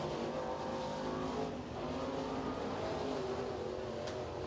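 A crate race car lapping Crossville Speedway during qualifying drones steadily at a moderate distance, its engine note holding a continuous hum with a slight dip around the middle and no talk over it.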